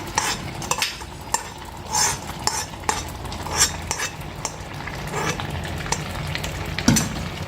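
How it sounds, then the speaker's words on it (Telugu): Ghee-fried cashews, raisins and pumpkin seeds get stirred into carrot and sweet pumpkin halwa, a spoon scraping the pan close up in a steady, repeated rhythm over a low sizzle and occasional metal clinks, with no talking. "ముందుగా వేసి పెట్టుకున్న జీడిపప్పు, కిస్మిస్, అలాగే పంకిన్ సీడ్స్ ఇవి కూడా మిక్స్ చేస్తాను"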